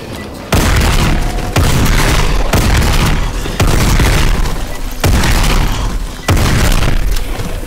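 A heavy weapon fired repeatedly in a Call of Duty Zombies map, Carrier: five loud, booming blasts at roughly one-second intervals, each followed by a dense rumbling roar, close and dominant.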